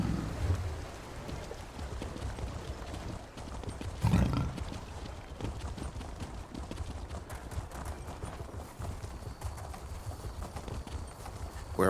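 Horse hooves clip-clopping at a steady, brisk gait while riding through the town of Sadrith Mora in Elder Scrolls Online, with a continuous rhythmic patter and one heavier thump midway, moderately quiet.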